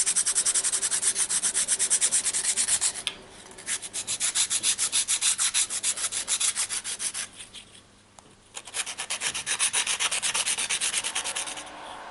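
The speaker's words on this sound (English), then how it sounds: "the filler has been sanded down nice and smooth, and this nail file has done an excellent job of doing that" A nail file sands dried filler smooth on the side of a 00 gauge plated girder model bridge, giving steady rhythmic rubbing strokes up close, broken by two short pauses.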